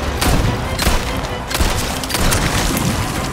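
Gunshots in Resident Evil 4 Remake, Ada's campaign, boom loud and close in quick heavy repeated blasts with a dense, crackling impact tail and no talk.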